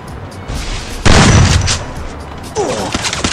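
Gunshots in the battle royale game Garena Free Fire ring out as a loud, booming burst with a heavy low-end impact that decays into ongoing rumbling fire and other game noise.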